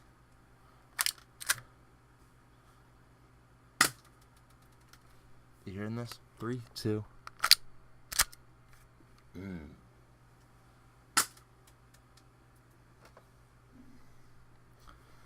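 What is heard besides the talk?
BB gun being fired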